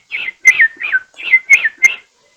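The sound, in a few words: whistled imitation of American robin song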